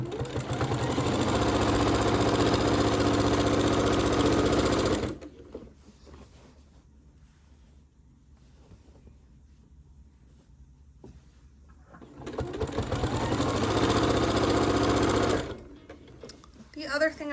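A sewing machine stitches binding onto an heirloom quilt in two loud, steady runs of rapid mechanical whirring, separated by a quieter pause with faint handling noise.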